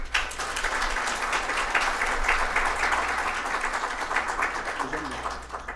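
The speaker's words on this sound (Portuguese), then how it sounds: "Uma salva de palmas, por gentileza." Sustained applause from an audience at a Brazilian lecture on image rights on the internet, greeting a lawyer invited to the stage; dense steady clapping throughout with a faint low hum underneath.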